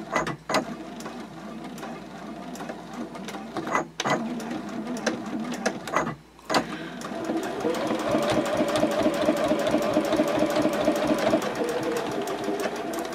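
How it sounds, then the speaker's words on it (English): A sewing machine stitches lines down a fabric card clutch, its rapid mechanical whirring running steadily and close up, broken by a few brief pauses and sharp clicks before a long continuous run. "Then you're going to sew down each one of those lines exactly the same way."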